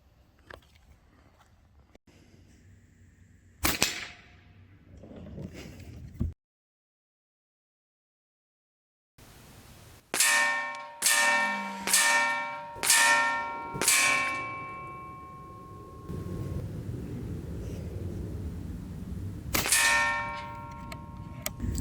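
An Artemis M16A PCP airgun fires during 50-yard accuracy testing, a series of sharp, separate cracks each followed by a short ringing, metallic tail, with a quiet gap before the shots.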